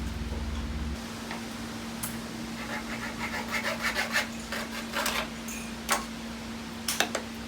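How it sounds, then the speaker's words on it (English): A hacksaw cuts through wooden dowels in short, uneven rasping strokes that build into a faster scraping rhythm, quiet and close, with a low steady hum underneath. "So I am going to reduce them in height using the hacksaw"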